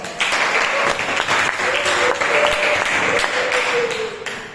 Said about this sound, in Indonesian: Oke, kita kasih applause.